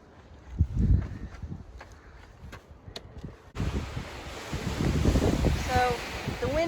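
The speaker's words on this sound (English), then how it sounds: "So the wind is picking up." Wind gusts roar across an exposed canyon hiking trail at Palo Duro Canyon, Texas, rising from light buffeting to a strong, steady rush with muffled footsteps and brief talk underneath.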